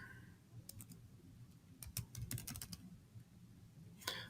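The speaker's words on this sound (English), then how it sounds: "I'm just going to double click in the box so I can type." Quiet bursts of typing on a computer keyboard, clusters of light key clicks near the start and middle with a final tap at the end, close and soft, no speech.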